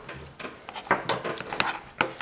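A spoon stirs salt-free seasoning into an MRE penne with vegetable sausage, making a quick run of soft scraping and clinking strokes close by.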